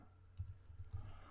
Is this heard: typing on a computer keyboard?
yes